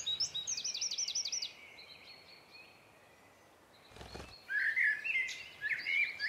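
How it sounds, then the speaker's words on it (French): Common blackbird in a natural habitat, singing short high phrases: a rapid burst at the start, a lull, then louder warbling notes near the end, outdoors with no talking. "Merle noire."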